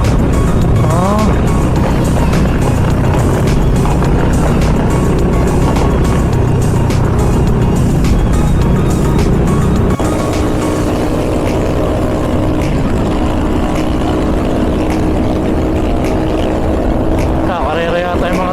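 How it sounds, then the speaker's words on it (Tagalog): Motorized tricycles race along a road in Angeles, their engines making a loud, steady roar that stays close and unbroken throughout. "kakarera yata yung mga tricycle ah."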